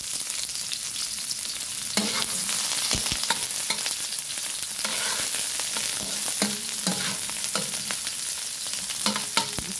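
Chopped onion frying in hot cooking oil in a pan, a steady close hiss of sizzling broken by sharp crackles and occasional stirring clatter, with no voices throughout.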